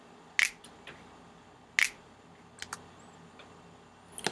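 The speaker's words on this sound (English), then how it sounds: "I just added a finger snap." A finger snap drum sample plays twice, about a second and a half apart, as sharp, bright, close clicks, followed by a few fainter clicks and small taps near the end of the phrase.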